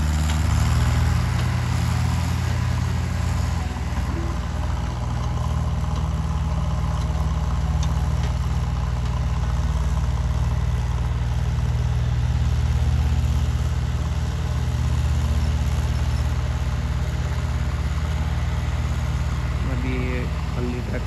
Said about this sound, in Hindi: पर दोस्तों ट्रैक्टर बिना जेसीबी ही भागा जा रहा है